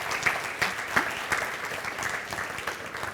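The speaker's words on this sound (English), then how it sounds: "A big round of applause" Audience applause at an art fair panel talk welcoming the speakers, with a few sharp individual claps standing out near the start before the clapping settles into a softer, even patter.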